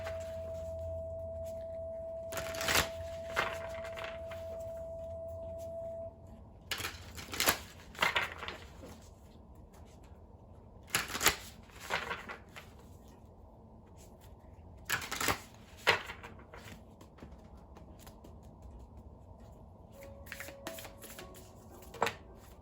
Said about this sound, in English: I still feel like a reshuffle's in order here.